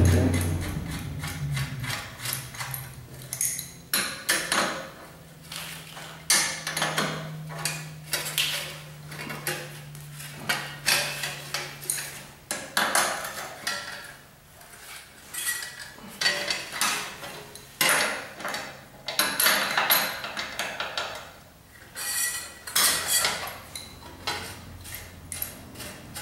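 Metallic clanks and scraping of an adjustable wrench working a wheel nut on a bike, with repeated clicks and knocks of tool on hardware, close and fairly busy throughout.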